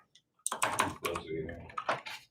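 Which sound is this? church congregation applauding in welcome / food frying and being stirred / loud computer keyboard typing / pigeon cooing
loud computer keyboard typing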